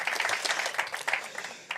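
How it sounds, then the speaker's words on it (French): An audience at a French Tech pitch competition gives a pitch contestant a short burst of dense, continuous applause, fairly close and loud, lasting under two seconds. "Allez, on l'applaudit un petit coup"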